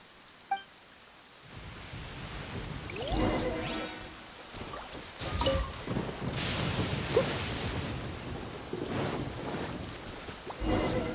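Lightning storm in Genshin Impact: low rolling thunder rumbles build under steady rain hiss, with a sharp crack early and swelling gusts and booms that carry through to the end.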